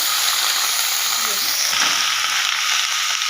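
Onion paste sizzles steadily as it fries in a pan of hot oil with garam masala, a constant hiss with a few soft stirring scrapes, close and fairly loud throughout.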